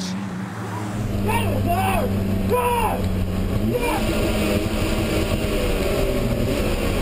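BMW Championship production race cars crossing the start-finish line at Cadwell Park: a loud, steady engine roar with rising pitch sweeps as cars pass close by, under continuous commentary.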